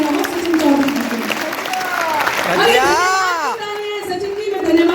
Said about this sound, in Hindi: एक बार जोरदार तालियां हो